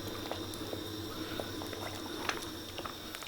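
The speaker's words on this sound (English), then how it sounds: "the masala, the mix, everything has come to a boil" A pot of masala mixture with plenty of water boils on a gas stove, giving a steady bubbling and popping at close range with small scattered bursts.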